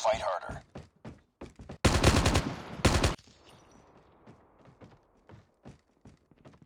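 Gunfire in the mobile shooter game Call of Duty Mobile: a dense, loud burst of automatic shots fills the middle of the clip, with sharp single reports before it and softer clicks and footsteps after.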